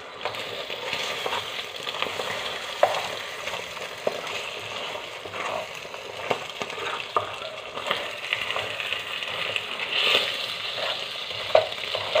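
Eggs frying with cooked onions in a pan for egg tomato curry make a steady sizzle, broken by repeated soft taps and scrapes of a spatula stirring throughout.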